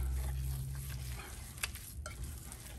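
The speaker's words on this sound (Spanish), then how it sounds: "Esta es la leche que uso. Y la vamos a mezclar." Almond milk gets stirred into healthy blueberry muffin batter, a faint, brief wet swishing and soft clicking under a low background hum.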